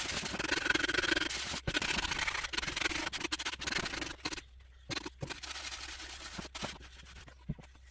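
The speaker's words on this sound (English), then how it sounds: "when you sand something after you've painted it, especially something like this tray" A painted tray is hand-sanded with close, scratchy back-and-forth rubbing strokes in an irregular rhythm, broken by short pauses.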